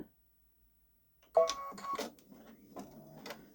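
A Babylock Solaris Vision embroidery machine stitches a buttonhole, starting after a second of silence with a close, rapid mechanical whir and clatter that pulses in short bursts.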